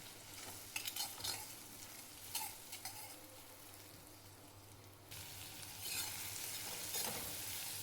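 Chopped garlic sizzles in butter and oil in a hot kadhai while a spoon stirs and scrapes it, a steady close frying hiss with intermittent clinks and scrapes and no talk.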